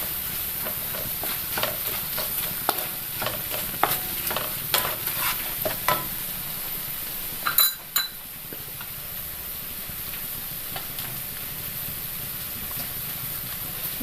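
Chili, turmeric and fenugreek powders roast in hot oil, giving a steady soft sizzle broken by repeated scraping stirs, with a sharper clatter around the middle before the frying settles into a continuous hiss.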